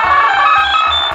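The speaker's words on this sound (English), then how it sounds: "My phone just went off." A phone ringtone plays steadily and loudly for about a second, a bright tonal melody with a pulsing low beat underneath, no voices.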